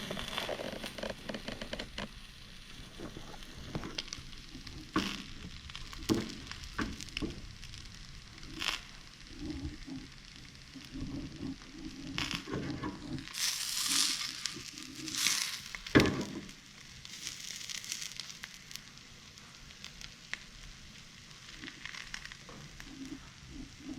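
An egg frying in a pan over medium heat, cooking until the white sets, gives a soft steady sizzle and crackle with scattered spatula scrapes and a few louder bursts near the middle, with no talking.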